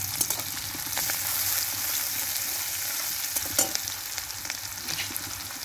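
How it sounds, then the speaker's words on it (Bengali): Onions fry in hot oil for a Bengali mutton curry, giving a continuous close sizzle broken by a few scraping stirs, with no talking. "পেঁয়াজটা আমার ভাজা হয়ে গেছে"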